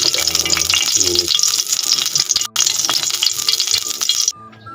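Cooking oil heating in a small pan, a loud steady sizzle and crackle running almost unbroken, dropping out briefly midway and fading to a quieter hiss at the end.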